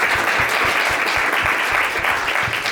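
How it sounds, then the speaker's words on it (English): Steady, dense round of audience applause at a chamber of commerce event, many hands clapping continuously at even loudness for a few seconds. "Round of applause, please."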